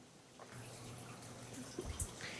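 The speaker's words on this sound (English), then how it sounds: "you can turn on the cooling water by opening these valves" Cooling water in a large distillation column runs after its valves are opened, a steady low rush of flowing water with a few faint knocks and clinks, no voices.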